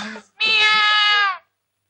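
A single long, clear cat meow, close and fairly loud, following a brief softer sound, then silence.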